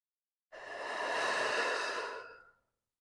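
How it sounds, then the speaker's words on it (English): One long, deep, breathy exhale during a calm yoga flow, rising smoothly and then fading over about two seconds, close and alone with no talk. "Deep breath in"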